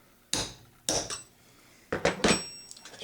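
Metal hammer striking a gunsmith's punch to mark a hole in the center of a wood gun stock being repaired for stripped screw holes; four sharp, close impacts ring out alone, two early blows then a quick pair near the end.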